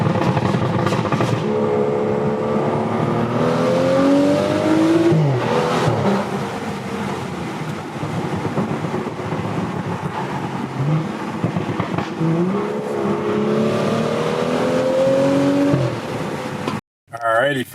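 A car with a Bootmod3 Stage 2 tune accelerates hard twice, the engine note climbing through the gears with each pull, loud and close inside a steady road roar.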